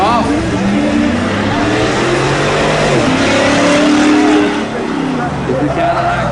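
Pickup trucks, including a Cadillac and a BMW, launch off the line at a spectator truck drag race, engines roaring and revving hard with rising and shifting tones, loud and close, while a commentator talks over them.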